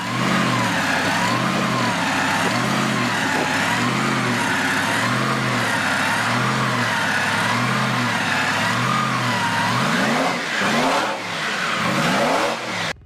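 Supercharged 1.5-litre Alfa Romeo inline eight-cylinder Formula 1 engine, loud and steady, its pitch rising and falling in repeated sweeps as it revs up and eases off, then a faster rising and falling surge near the end.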